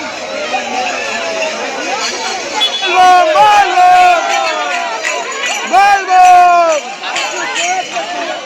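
A large crowd of Shiva devotees packs Tarakeswar temple on a Shravan Monday, a dense close babble of many voices with loud chanted shouts rising in bursts over the steady hubbub.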